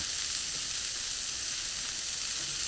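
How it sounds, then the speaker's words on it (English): Loud, steady sizzling of a smash burger frying on a hot griddle, a continuous close-up crackle with no talking. "You hear that sizzle?"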